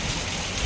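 Heavy rain pours down at night outside a home, a dense, steady hiss of falling water heard close with no voices over it.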